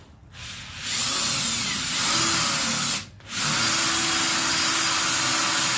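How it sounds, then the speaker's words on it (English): Power grinder cutting out a pin hole for an ATV chainsaw rack mount, a sustained high whine that starts after a brief pause, cuts out once near the three-second mark, then resumes steadily at close range. "we're gonna go ahead and grind this out here"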